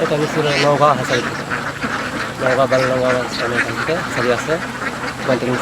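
Several ducks quack in repeated nasal bursts throughout at a duck farm, mixed with people talking nearby in a noisy outdoor setting.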